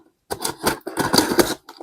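Scissors cutting open a package of stickers and stationery, close and dry, with several short snipping and crunching strokes in quick succession after a brief silence.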